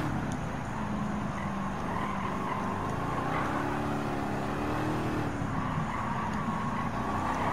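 Race car engine in Gran Turismo 7 at Grand Valley South, droning steadily with rising and falling revs through gear changes and corners, continuous and fairly loud without speech.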